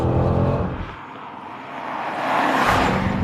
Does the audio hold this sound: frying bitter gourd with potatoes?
no